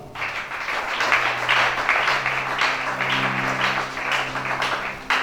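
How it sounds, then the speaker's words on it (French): A church congregation applauding, a dense, steady burst of clapping from many people at close range, lasting the full stretch, with a faint voice or organ-like tone underneath. "Acclamez ça."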